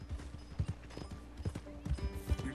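Horse hooves clip-clop in a steady walking rhythm in the Red Dead Redemption 2 video game, moderately close and fairly quiet, with a faint whinny-like tone in the background.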